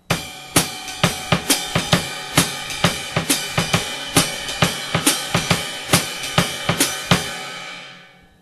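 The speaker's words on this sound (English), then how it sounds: "Figure 47 is swing with the added bass drum pattern" Drum set played in a swing style with an added bass drum pattern, sharp cymbal and snare accents recurring at a steady pulse over low kick thumps, alone and close, ending with a ringing decay.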